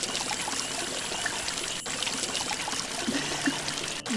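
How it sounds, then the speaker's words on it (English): Flowing water in the Fairy Tale Mysteries 2 The Beanstalk game, a steady trickling stream loop with brief dropout clicks where the short loop stutters. "The sound of the water loop is really short. Yeah, it's really short and it's got a stutter in it."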